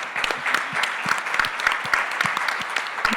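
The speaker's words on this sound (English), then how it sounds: "all of us owe her a great round of applause" Steady applause from a crowd at a national gathering on unmarked burials in Montreal, many hands clapping continuously at an even level, with no one speaking.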